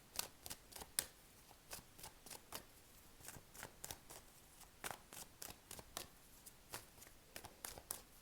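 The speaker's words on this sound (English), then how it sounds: "Sorry, I will shuffle that." Tarot cards being shuffled and riffled in quick, repeated bursts of crisp flicks, quiet and close.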